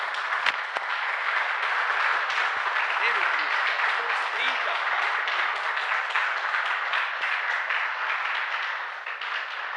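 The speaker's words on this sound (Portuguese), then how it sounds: "Vamos recebê-lo com uma poderosa salva de palmas para Jesus" A church congregation bursts into sustained, dense applause at a worship service, loud and steady for several seconds before easing slightly at the end.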